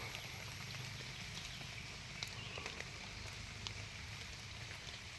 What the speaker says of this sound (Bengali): শুধু চারিদিকে বৃষ্টি শব্দ বাতাস থেকে বৃষ্টি পড়তেছে